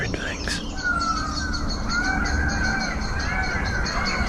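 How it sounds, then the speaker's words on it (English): A peacock calls out in hot open forest, giving a few drawn-out wailing cries over a dense bed of chirping birds and insect noise, with a faint voice nearby. "Peacock."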